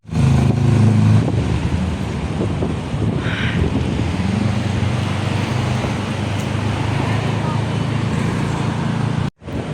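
Strong wind buffets the microphone with a loud, continuous roar outdoors in BGC, mixed with the hum of passing road traffic, ending in a brief dropout.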